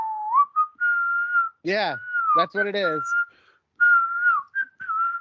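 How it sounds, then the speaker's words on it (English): A person whistles a wavering tune in sustained notes, close and clear, broken by brief bursts of speech as someone talks in between. "I just whistled."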